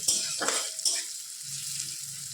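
Vegetables fry in a pan for veg chowmein, with a soft, close sizzle and a couple of brief stirring scrapes early on, then a quieter steady fry, with no talking.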